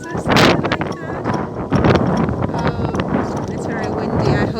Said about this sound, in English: It's very windy. I hope it doesn't sound too badly on the phone, but on the camera.